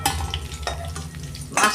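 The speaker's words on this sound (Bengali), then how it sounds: "দেখুন বন্ধুরা, আমার মাছ ভাজা হয়ে গেছে" Fish frying in oil in a pan, a close steady sizzle broken by a few scraping stirs and a sharp burst of spatter near the end.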